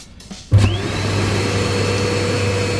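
The air pump of a Bestway Lay-Z-Spa St Tropez hot tub starts after a quiet moment and settles into a loud, steady drone with a low hum and airy rush, running alone.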